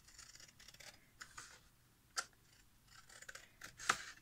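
Scissors cut through a laminated paper template with soft, quiet snips and a couple of sharper clicks of the blades, close to the microphone.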